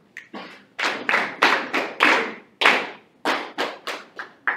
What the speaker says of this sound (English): We clapped. We didn't count.